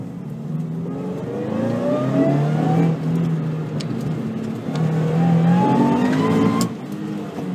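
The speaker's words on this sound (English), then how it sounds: "You hear that auto blip shift when you're on the brake with this Ecotec." A supercharged Subaru BRZ running a Chevrolet Ecotec engine revs loudly on a race track, its pitch climbing and falling across two acceleration pulls with quick automatic throttle blips on downshifts, close and continuous with no talk.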